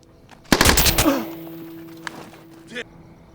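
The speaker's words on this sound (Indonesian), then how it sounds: "Anak laki-laki itu menembak Setas" A loud burst of rapid gunfire, a boy shooting in a war scene set in Afghanistan, hammers out for about half a second, then fades into a ringing tail with a faint later shot.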